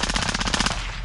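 Rapid automatic gunfire from a Call of Duty Warzone match, a loud, dense burst of close shots in quick succession that briefly drops off and then resumes.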